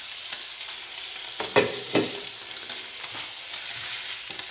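Green beans and onion sizzle in a hot pan, a constant bright frying hiss with a few louder scraping stirs near the middle, close and with no talking.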